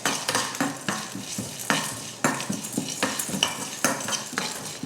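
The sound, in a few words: dry-roasting pepper, cumin, cloves, cinnamon and cardamom in a pan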